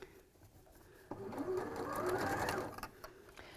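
Sewing machine stitching along the top of fabric, a steady close mechanical whirr that starts abruptly, runs for a second or two and then winds down, with faint speech beneath it.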